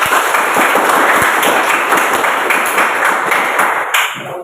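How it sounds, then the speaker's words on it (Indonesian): A classroom of pupils bursting into loud, dense hand clapping during an Indonesian teaching lesson, a sustained close wash of applause with sharp individual claps that tapers off near the end. "Luar biasa, tepuk tangan."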